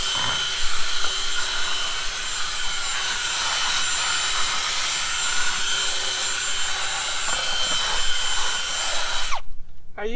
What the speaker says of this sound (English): I'm going to go around with the drill in here,